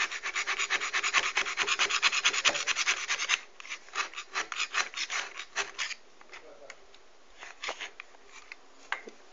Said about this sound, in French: râper votre craie